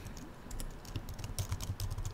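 Clatter of typing on a computer keyboard while entering admin login details for a Django web project, a quick run of close, light key clicks in a steady, slightly uneven rhythm with no talking.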